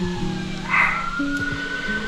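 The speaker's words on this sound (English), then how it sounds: "You guys see it, hear a siren in the back?" A wailing siren sweeps up and down in the background with a steady tone, mid-distance and moderately loud, with no talking.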